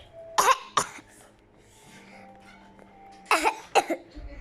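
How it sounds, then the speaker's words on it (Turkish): Two pairs of harsh, close coughs, separated by a quiet pause with a low hum in the background. "ben çok öksürüyorum."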